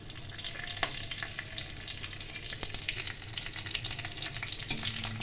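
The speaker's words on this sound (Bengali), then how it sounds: "পাঁচফোড়ন ও শুকনো লঙ্কা ভেজে নিলাম।" Dried red chillies and panch phoron spices fry in hot oil for Bengali masoor dal, a steady close sizzle and crackle with occasional sharper pops throughout, without any talking.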